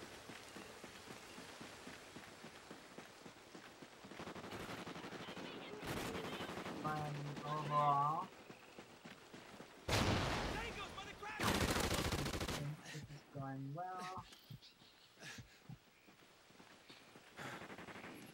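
Gunfire in Call of Duty: Ghosts multiplayer, scattered bursts of automatic fire and shots at varying distances, some loud and close, with someone talking over parts of it.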